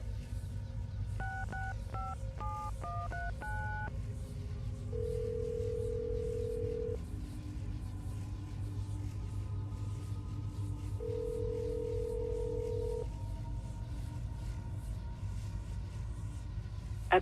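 In Assassin's Creed Brotherhood, a phone keypad is dialed in a quick run of DTMF beeps, followed by two longer steady ringback tones, all quiet and clear over a low background hum with no talk.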